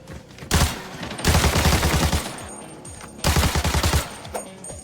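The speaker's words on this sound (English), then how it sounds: "You can hear the gunfire is really intense." Bursts of rapid automatic gunfire in video game combat, two long intense volleys separated by a brief lull, loud and close.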